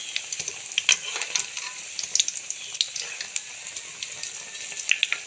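Banana flower vadai sizzling in hot oil while being flipped, a steady moderate crackle with sharp pops and spatters scattered across it.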